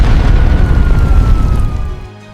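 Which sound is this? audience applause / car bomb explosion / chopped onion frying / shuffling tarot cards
car bomb explosion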